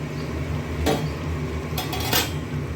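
A metal lid meets a cooking pot for a vegetarian Bengali dish, giving a few sharp clanks and rattles near the start and again toward the end over a low steady kitchen hum.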